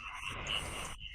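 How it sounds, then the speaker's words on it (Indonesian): Frogs croaking at night in a swamp, a steady buzzing chorus of calls that is moderately faint and carries on without any speech over it. "Kodok. Kodok ada."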